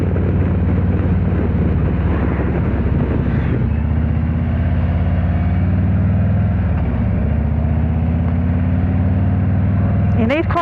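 A Harley-Davidson Electra Glide motorcycle engine rumbles steadily and loudly up close, with a low idling throb that shifts pitch slightly midway and again near the end.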